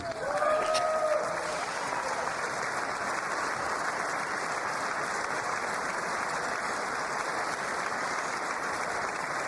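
Sustained applause from a large audience at the State of the Union address, starting with a louder burst and holding steady for several seconds as a dense, even wash of clapping.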